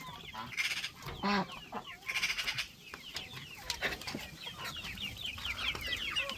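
Several growing chicks and young chickens clucking and calling close by, with overlapping bird chatter and some rustling in the background.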